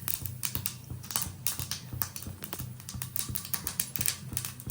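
Mustard seeds and then cumin seeds crackle and splutter in hot oil for a Tamil home-style vegetable dish, a dense, continuous run of sharp pops and sizzles over a low steady hiss, with no talking.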